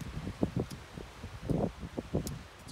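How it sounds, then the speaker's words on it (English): Gusty wind buffets the microphone in uneven bursts, with a soft rustling underneath. "It's quite windy now"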